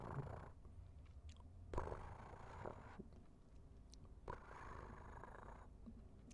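A person imitating a cat's purr with the voice, a low rumbling rattle repeated in several long breathy cycles, close and fairly quiet, with no talking over it.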